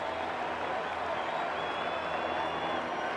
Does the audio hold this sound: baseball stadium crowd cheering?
yes